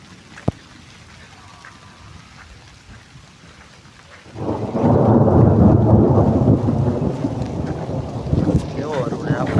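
Unseasonal summer thunderstorm over farmland: a quiet start with one sharp crack, then heavy rain and rumbling thunder roar in suddenly and stay loud and dense to the end.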